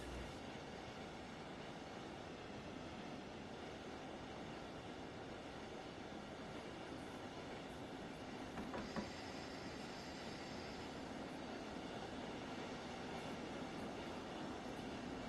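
A train running in Train Sim World 4 gives a steady, dense rumble of rolling wheels and carriage noise that continues without a break. A faint squeal or whistle-like tone briefly rises over it partway through.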